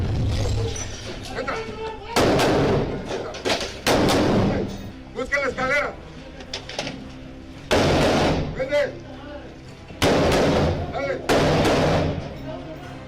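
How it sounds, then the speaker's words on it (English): Repeated loud bursts of gunfire and heavy grenade explosions during an armed raid on an apartment building in Colombia, some rapid and clustered, with voices shouting between them. "after firing several shots and detonating grenades"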